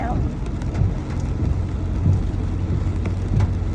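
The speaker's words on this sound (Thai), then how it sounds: "วันนี้ฝนตกหนักนะคะ" Heavy rain pours down on a flooded street at the Arcade intersection in Chiang Mai, a dense, loud, continuous roar with low rumbling traffic underneath and scattered heavier splashes throughout.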